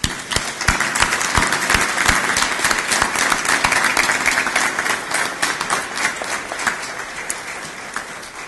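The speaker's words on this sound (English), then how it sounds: "won't you join me in giving her and Jim a round of applause?" Loud, steady applause from an inauguration crowd honoring a new community college president, many hands clapping close and dense throughout before tapering slightly at the end.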